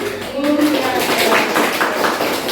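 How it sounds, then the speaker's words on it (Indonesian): Students in a classroom group-guidance session break into a burst of applause, a dense wash of clapping with some voices mixed in throughout. "tepuk tangan"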